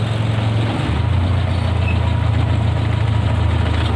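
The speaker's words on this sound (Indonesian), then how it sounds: "Yuk sekarang kita coba tes jalan mobil ini, jalan dekat aja" The engine of a 2000 angkot minibus hums steadily on a short test drive, a low, even drone with slight roughness and no talk.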